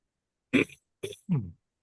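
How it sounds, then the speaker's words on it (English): Three short, close coughs from one person, throaty and a little wet, spaced about half a second apart in an otherwise quiet space. "I'm coughing in your ear"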